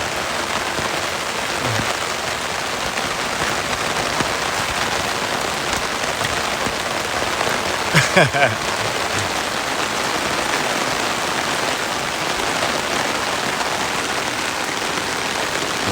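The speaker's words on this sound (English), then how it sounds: "this is the heaviest rain I've yet seen here" Heavy rain pours steadily across a Japanese garden near a bamboo forest, a dense, even hiss of drops striking surfaces, loud and continuous, with a brief faint knock partway through.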